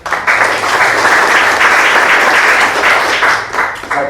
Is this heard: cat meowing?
no